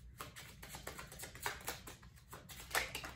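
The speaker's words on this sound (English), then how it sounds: "Need to keep shuffling." Tarot cards being shuffled by hand come through as quiet, irregular riffling and soft tapping patters close by, faint overall with small bursts of louder flicks.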